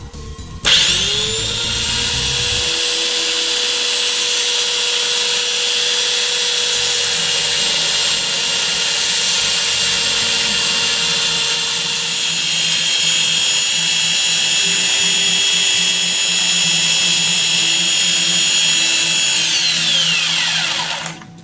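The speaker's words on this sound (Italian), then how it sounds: "ho rallentato la velocità della smerigliatrice in modo da lucidare questo" An angle grinder slowed to a reduced speed polishes a piece for a neck knife handle, a loud steady high whine that spins up after a brief start, holds for about twenty seconds, then winds down.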